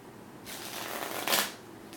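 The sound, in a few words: shuffling tarot cards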